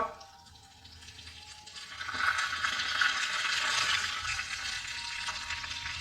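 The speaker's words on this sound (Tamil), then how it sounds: "வெங்காயமும் தக்காளியும் நல்லா வதங்கட்டும்" Onions and tomatoes sauté in a pan for biryani, a steady close hiss of sizzling that swells and holds from about the midpoint, with no one speaking.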